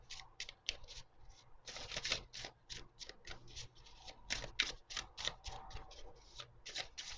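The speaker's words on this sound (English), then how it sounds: "it shuffles really nice overhand" Pocket-size tarot cards riffled in an overhand shuffle, a quick run of crisp papery slaps and flutters in uneven bursts, close and fairly quiet with no talking.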